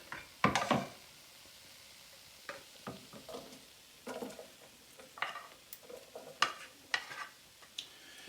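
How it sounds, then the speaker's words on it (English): A cooked onion mixture in its juices goes into a pot for a vegan hominy hash, then scattered scrapes and clacks of stirring come in short irregular bursts with a faint sizzle between them, close and fairly quiet. "And I'm going to go in and add that to my pot here."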